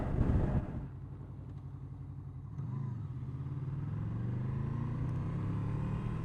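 A Honda VFR800F engine lugs in second gear on a test ride, a low uneven rumble that drops after a brief louder burst, then steadily swells as the bike pulls away, heard from on board.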